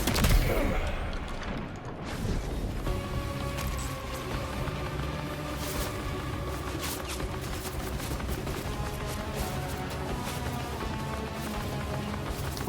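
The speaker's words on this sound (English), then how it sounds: "My gosh, it has a turret on it?" Rapid sustained turret gunfire in the video game Death Stranding 2, a dense stream of shots and impacts layered over a busy mechanical game soundscape, fairly loud and continuous.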